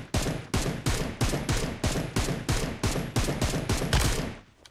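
Rapid bursts of gunfire from PUBG Mobile crack out in a steady, evenly spaced rhythm of about a dozen loud, close shots, fading at the very end with no talking over them.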